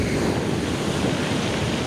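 Sea waves wash onto a stony beach in a steady, broad rush mixed with wind buffeting the microphone, continuous and fairly loud, with no one speaking.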